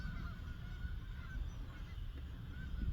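Geese honk repeatedly at a distance over a low rumbling outdoor background, their calls faint but persistent.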